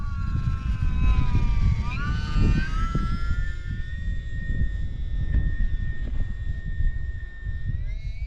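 E-Flite Valiant 1.3M RC plane flying in strong, gusty wind, its electric motor a steady high whine that rises and falls in pitch as it passes, over loud continuous wind buffeting the microphone.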